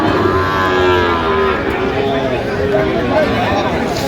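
Sahiwal bulls at a busy cattle market in Chattogram give low, drawn-out moos over a constant crowd murmur, with people talking throughout.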